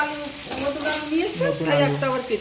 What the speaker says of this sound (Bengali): হালকা করে ভেজে নিচ্ছি আলু